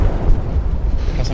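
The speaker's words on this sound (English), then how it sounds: "They detonated an explosive in the hole." An explosive detonation in the video game Detroit: Become Human, a loud sustained rumbling boom with heavy low-end roar lasting throughout.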